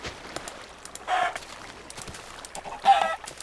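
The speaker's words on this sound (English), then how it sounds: "I'm just gonna kill these chickens." Minecraft chickens give two short bursts of clucking about two seconds apart, moderately close, against faint background clicks and noise.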